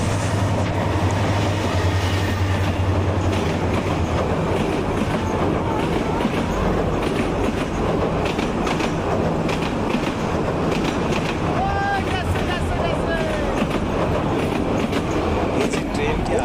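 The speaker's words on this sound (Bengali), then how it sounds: "হঠাৎই বন্ধুরা রেলের শব্দ শুনতে পেলাম, ট্রেন আসতেছে" An intercity train from Jamalpur passes on the railway near a river bridge, loud and close, with a constant heavy rumble, rhythmic wheel clatter and brief squeals of steel as the carriages roll by.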